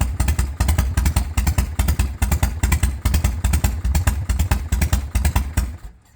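A Harley Shovelhead motorcycle engine runs loud and close with a lumpy, rhythmic loping beat and mechanical clatter, holding steady before cutting off abruptly at the end.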